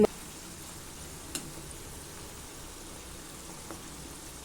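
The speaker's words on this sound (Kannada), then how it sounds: "ಸೊ ಆಯಿಲ್ ಬಿಸಿ ಆಗ್ತಾ ಇದೆ, ಚೆನ್ನಾಗಿ ಫ್ರೈ" Homemade kadle mixture frying in hot oil gives a steady, soft sizzle, close and fairly quiet, with a couple of brief pops and clicks over the continuous hiss.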